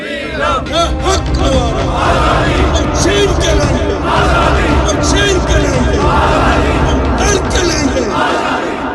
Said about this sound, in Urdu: مظاہرین نے بھارتی وزیر اعظم اور مسلح بھارتی افواج کے خلاف زبردست نعرے بازی کی۔